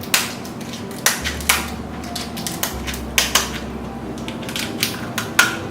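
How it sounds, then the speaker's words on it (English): Kitchen scissors cut down the middle of a lobster tail shell, giving a series of sharp, close crunching snips spaced irregularly over a few seconds, with a low hum underneath. "you take your scissors, and you go right down the middle of your tail here"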